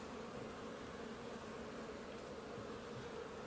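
A dense, steady hum of many honey bees buzzing close by at an open hive, continuous and unbroken, with no voices.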